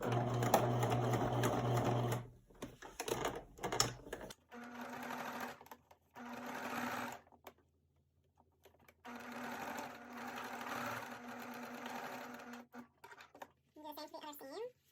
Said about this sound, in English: I am going to just top stitch all the way down my side seam